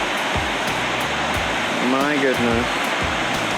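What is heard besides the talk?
waterfalls at Roberto Barrio near Palenque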